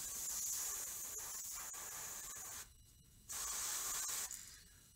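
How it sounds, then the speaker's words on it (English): Close by, a Badger 105 airbrush sprays paint onto a crankbait in a steady, soft hiss at lowered air pressure. The hiss cuts out briefly twice between bursts. "So this airbrush I'm using is a Badger 105."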